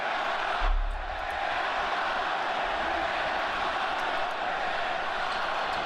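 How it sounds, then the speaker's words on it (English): Crowd at a wrestling event in Mexico roaring steadily, a dense continuous wash of cheering and shouts from a large audience with no clear breaks. "Certainly a vociferous crowd."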